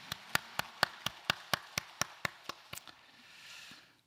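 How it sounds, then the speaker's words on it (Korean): A church congregation claps in unison during a Sunday worship service, about a dozen evenly spaced, fairly faint claps in a steady rhythm that fade into a soft murmur at the end. "영광의 박수 올려드리겠습니다."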